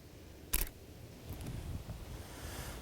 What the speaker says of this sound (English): So let's take a picture with just the natural light.